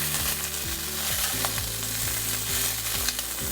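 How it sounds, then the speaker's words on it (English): Sausages brown in a frying pan with a steady close sizzle, crackling and spattering continuously with no voices. "as our sausages start to brown up and they release easily from the pan"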